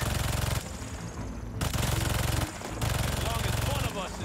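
Turret machine guns fire in Marvel's Spider-Man 2, loud sustained rattling bursts broken by short pauses, with dense rapid gunfire dominating throughout.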